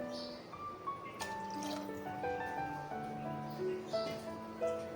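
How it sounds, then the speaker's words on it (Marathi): Water is poured into a cooking pot while making gavar dhokli, faint trickling and dripping with bright ringing tones as the liquid fills the vessel, heard quietly and close. "आता ह्याच्यात आपण पाणी टाकून घेऊया"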